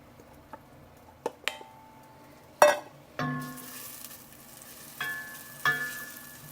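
Shallots and garlic go into warm olive oil in a soup pot, giving a few sharp clinks and bursts of sizzling that settle into a steady, quiet fry with occasional stirring, and no voices.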